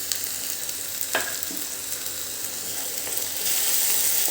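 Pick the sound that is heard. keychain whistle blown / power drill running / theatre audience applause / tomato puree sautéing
tomato puree sautéing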